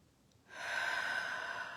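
A single deep cleansing breath, drawn in and let go during a calm morning guided meditation, swelling from silence into a steady close airy rush that holds for over a second.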